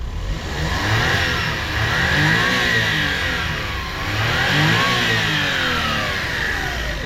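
A Japanese kei van's turbocharged engine revs up twice in smooth rising and falling sweeps, loud and close, settling back toward idle between pulls.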